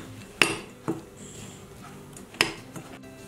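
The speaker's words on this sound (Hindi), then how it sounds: "नारियल के चिप्स, नारियल का बूरा और इलायची पाउडर डालकर अच्छे से मिक्स कर लेंगे" A spoon clinks sharply against a metal pan three times while makhana ladoo mixture is stirred with coconut chips, desiccated coconut and cardamom powder, with faint soft scraping in between.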